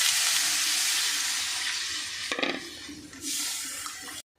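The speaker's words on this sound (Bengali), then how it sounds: "এখন আমি জল দিয়া দিব।" Water is poured into a pan of sizzling masala for a hilsa curry with potato and eggplant, a loud hiss that dips as the liquid hits, then resumes briefly before stopping.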